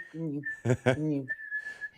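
A voice imitates a hearing aid's whistle: a steady, piercing high tone held for about half a second, then again for roughly a second, in between bursts of close, comic talk.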